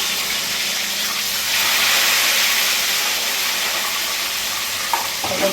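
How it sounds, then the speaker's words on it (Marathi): Potato fries frying in hot oil, a loud continuous hiss and bubbling sizzle that swells briefly midway, close up, with a couple of faint clinks near the end and no talking. "थोडं थोडं घेऊन तळून हलवून घ्यायचं"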